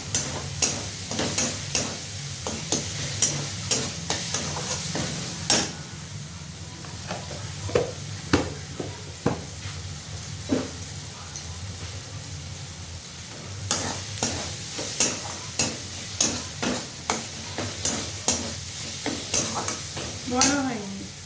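Ginger-garlic paste frying in hot oil, a soft continuous sizzle broken by frequent sharp scrapes and taps of a spatula against the pan, close and steady.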